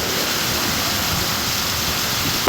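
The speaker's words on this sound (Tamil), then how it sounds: "இடங்களில் 2 மணி நேரத்திற்கு மேல் பரவலாக மழை பெய்தது" Steady heavy rain falls as a dense, continuous roar of broadband hiss, loud and unbroken with no talk or other clear sounds.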